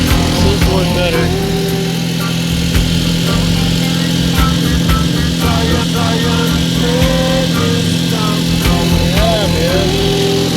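A small 4–6 hp outboard boat motor runs close and loud with a steady, buzzing idle-to-mid throttle drone, with someone talking over it.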